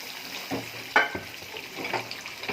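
Spices being tempered in hot oil in a pan for a tamarind dish, a soft continuous sizzle with a few louder crackles and pops, fairly quiet and close.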